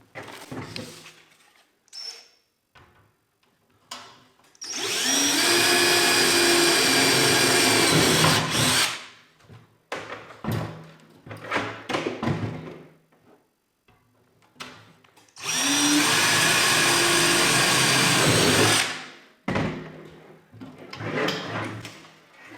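Two long bursts of a power drill driving screws through metal while hanging LED shop lights, each lasting several seconds, loud and close, separated by clicks and handling noises of tools.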